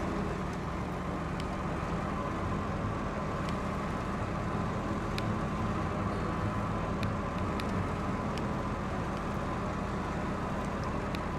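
A truck driven in a video game from a first-person view, giving a steady, unbroken engine and road drone with faint ticks over it, at an even level throughout, with no talking.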